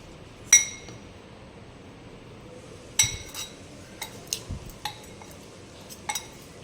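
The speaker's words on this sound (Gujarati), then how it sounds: "અને હવે આપણે આને સારી રીતે મિક્સ કરી લઈશું" A spoon clinking against a bowl while mixing sprouted moong salad with chaat masala, several sharp metallic taps spaced irregularly, close and clear against quiet background.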